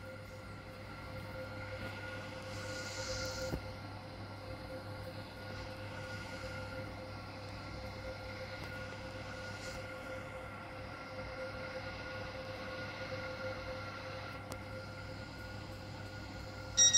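A Class 801 train in the Stepford County Railway game runs along the line, heard as a steady low rumble and hum inside the cab, with faint rail squeals and clicks and no voices.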